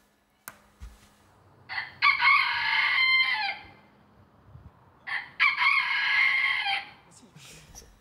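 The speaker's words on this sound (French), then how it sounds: "vous connaissez ce coq?" A rooster crows twice outdoors, each long cock-a-doodle-doo loud and fairly close, separated by a quiet gap with faint background noise.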